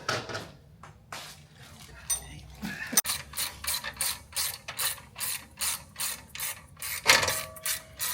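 A hand ratchet tightens the alternator mounting bolts on a 1969 Camaro SS, sounding as a quick run of sharp clicking strokes in an even rhythm, close and clear, with brief metal clanks between.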